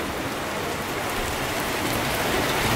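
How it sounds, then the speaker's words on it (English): Heavy rain pours down outside a small hut, a dense, even hiss of drops drumming on surfaces, close and constant with no voices. "And it's downpouring right now."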